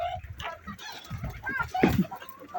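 Silkie chickens cluck and murmur close by in short, irregular bursts, with a person talking softly among them.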